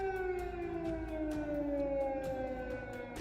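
Air raid warning siren in Ukraine wailing loudly and continuously, its steady rising-and-falling tone sustained with no break from start to end.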